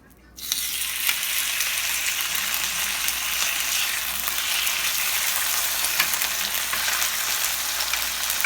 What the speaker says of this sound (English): Oh my god, hear the sizzle?